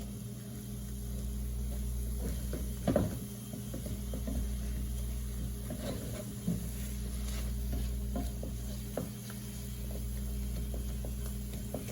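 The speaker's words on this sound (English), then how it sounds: "make sure each remnant of your stir fry is touching that pan so that you get an even cook on this" Pork fried rice with scrambled egg is stirred and tossed in a hot pan, a steady low sizzle broken by scraping and clattering of the utensil against the metal at irregular moments.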